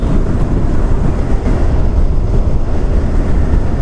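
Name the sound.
Yamaha R15 V4 motorcycle engine running during mileage test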